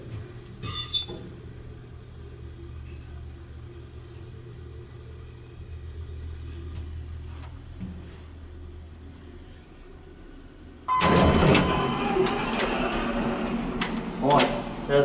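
Dover elevator in a parking deck of a downtown Knoxville hotel, carrying riders: a steady low motor rumble and faint squeaks during the ride, then a loud burst of door and car noise near the end, with voices talking over it.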